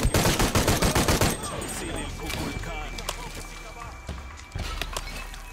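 Shotgun gunfire in Shadow of the Tomb Raider, a rapid series of loud close blasts at the start that fades into scuffling action noise and one more sharp hit near the end, with someone talking throughout.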